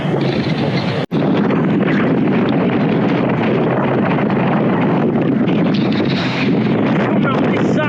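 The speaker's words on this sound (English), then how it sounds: "It's still really quite windy." Strong wind on a hilltop by the sea roars and buffets the microphone continuously and loudly, broken only by one brief sharp dropout near the start.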